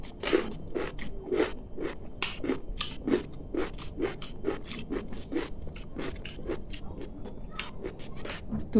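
Close, rhythmic crunching and chewing of cucumber with sauce at a vegetable mukbang, steady bites repeating roughly every half second with moist mouth sounds throughout.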